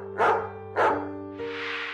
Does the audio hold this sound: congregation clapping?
no